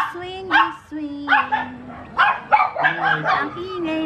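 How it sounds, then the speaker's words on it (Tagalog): Several dogs barking loudly and close by on a Sunday morning, in short overlapping bursts with yips and whimpers, while a person talks over them. "Ang ingay ng mga aso."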